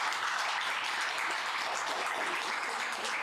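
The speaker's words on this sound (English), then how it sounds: "Let's give her a round of applause." Steady audience applause at a business networking gathering, a dense continuous patter of many hands clapping at moderate volume throughout, with no voices standing out.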